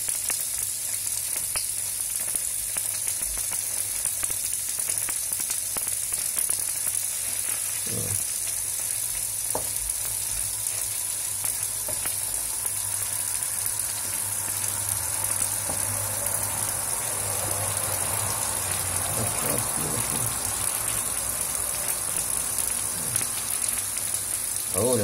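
Butter sizzles steadily in a pan with gnocchi and shrimp, a constant close crackle and hiss, with occasional scrapes and stirring clatters over about 25 seconds.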